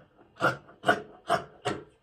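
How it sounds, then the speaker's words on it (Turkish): Scissors cut across a trouser hem through four layers of fabric, four even, crisp rasping snips in a steady rhythm, close and on their own. "Ben önce paçayı kesiyorum."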